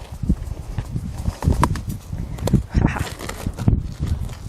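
Horse hooves thud and shuffle on the ground during groundwork horsemanship training, irregular clip-clop steps close by, loud and uneven as the horse moves its feet.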